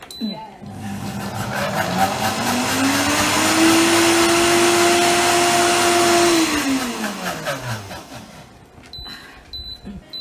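A food processor runs while a vegan yam cake is being made, whirring up to a steady loud motor whine that rises in pitch, holds for several seconds, then winds down, followed by clattering handling sounds. A voice talks faintly nearby.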